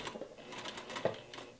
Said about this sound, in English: And then you just sew the whole way down until you get to the next corner.